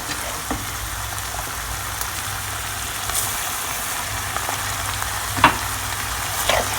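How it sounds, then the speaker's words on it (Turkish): Bulgur sautés in a pan with a steady soft frying hiss, dotted with scattered clicks and scrapes from stirring, all at moderate volume with no speech. "bir su bardağı bulgurumu ilave ettim. Güzelce kavuruyorum."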